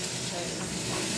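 Cauliflower frying in a pan, a loud, dense, continuous sizzle close up, with no voices.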